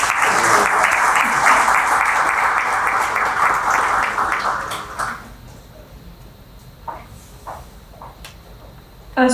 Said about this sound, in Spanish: Recibimos con su aplauso al doctor Germán Miranda Villalona